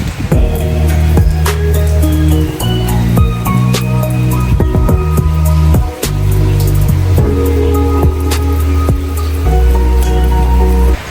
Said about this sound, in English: It is currently raining here in Samoa.